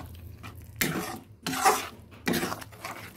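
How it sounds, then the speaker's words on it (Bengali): A spoon scrapes and stirs turmeric powder into mashed banana stem in a pan, three distinct rough stirring strokes with quiet gaps between them, close and fairly loud. "দিয়ে দিচ্ছি হলুদ গুঁড়ো, ভালোভাবে নেড়ে দেব"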